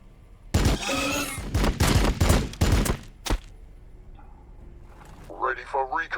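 Bursts of gunfire in the Warhammer Battlesector strategy game crackle in several rapid volleys, then stop, with a voice talking at the end.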